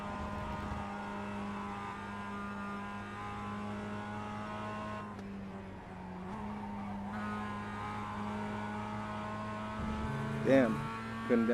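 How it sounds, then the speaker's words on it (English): A race car engine at Watkins Glen holds a steady high drone and then downshifts, with a brief dip followed by rising revs and tire chatter near the end. The sound is loud and continuous. "Damn, couldn't downshift in time."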